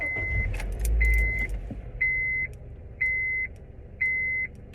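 A car's key-in-ignition warning chime beeps four times at an even pace over a low engine rumble. Keys jangle faintly near the start.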